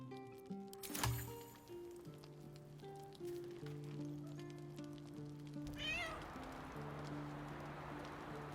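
Cat meowing in the video game Baldur's Gate III, a single clear meow early on over soft music and a rain-like ambient patter that continues throughout.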